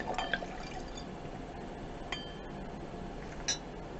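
Bluffer Valdiguié red wine poured through an aerator into a glass, a soft, faint trickling gurgle with a few light glassy clinks at the start and near the end, quiet and close.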